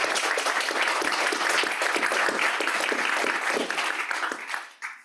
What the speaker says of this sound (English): can we all give Jayne a round of applause for this?